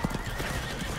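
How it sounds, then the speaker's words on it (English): Horses in a Roblox Napoleonic Wars battle gallop with a rapid clip-clop of hooves while one neighs loudly up close, the sounds packed into a short dense burst. "Stop the horses, guys."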